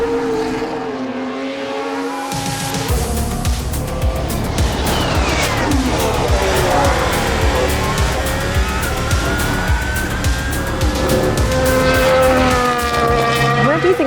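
Haas Formula One race car on hard tyres, a loud high-revving engine scream rising and falling through gear changes at close range, with commentary-like talk underneath.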